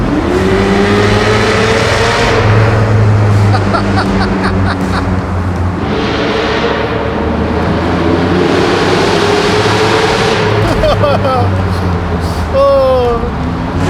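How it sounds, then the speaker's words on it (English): Loud V12 engine exhaust roars and screams echo through a tunnel, rising and falling as cars pass, with brief voices mixed in. "it sounds like I'm in a V12 F1 car"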